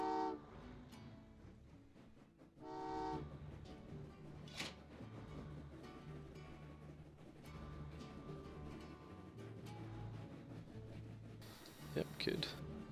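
In the video game Train Valley 2, a train runs through a gap, with short tonal horn-like blasts near the start followed by a continuous rumbling rail sound and scattered clicks.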